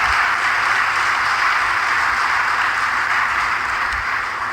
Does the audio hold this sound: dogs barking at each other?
no